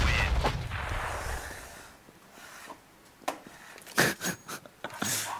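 Gunshots in a Counter-Strike match on de_mirage: a few sharp, faint shots spaced apart at first, then a quicker cluster of louder cracks near the end, set against a quiet in-game ambience.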